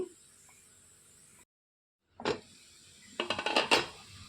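A spoon scrapes and clinks against a pan of beetroot and coconut fry, with a short burst of stirring followed by a quick run of sharper metallic taps after a brief silence.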